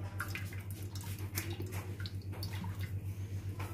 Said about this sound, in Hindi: हमने 200 मिलीलीटर तेल डाला है इसमें